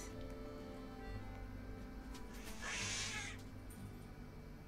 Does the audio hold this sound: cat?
yes